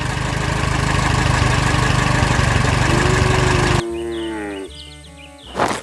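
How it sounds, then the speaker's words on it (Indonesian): A blue tractor pulling a trailer full of plants rumbles with a steady, loud engine drone for about four seconds before the sound abruptly changes to sparser tonal noises. "Traktor biru sedang menarik trailer yang penuh dengan tanaman."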